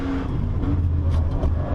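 A Nissan GT-R Nismo's engine roars from inside the cabin in fourth gear, climbing toward the highest point of the Nordschleife. A loud, steady drone holds under faint whirring.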